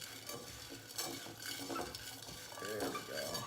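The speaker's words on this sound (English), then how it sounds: "We're just gonna kind of hand toss it," Cashews and cacao nibs tossed by hand in a bowl give a close, steady rustle and clatter of nuts and nibs shifting, with small bumps against the bowl and no talk.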